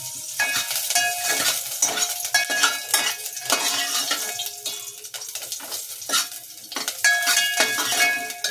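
Onions with chopped green chillies and ginger-garlic paste are sautéed for sweet corn vegetable soup, with soft sizzling under repeated clinks and scrapes of a spoon stirring the pan.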